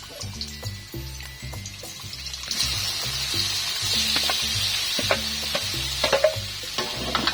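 Sliced octopus goes into a hot pan for Filipino adobong pugita with coconut milk, bringing a steady sizzle that builds and holds, with stirring clatter and scraping on top and a regular low thumping underneath.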